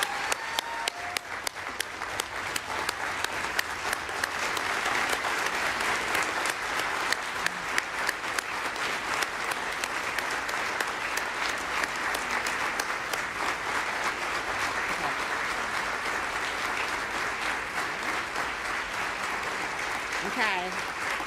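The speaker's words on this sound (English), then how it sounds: "please join me in one more robust round of applause for all of our phenomenal awardees" A large audience applauds steadily for the honorees at a formal human rights award ceremony, a dense, even wash of clapping that holds for the full stretch at a consistent level with no voices rising above it.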